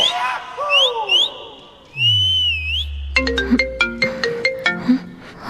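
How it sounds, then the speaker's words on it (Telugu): An incoming phone call rings as a bright electronic ringtone melody, first gliding tones and then a rapid run of repeated, plucked-sounding notes, loud and close with no talk. "అయ్యో, నాన్న కాల్ చేస్తున్నారు."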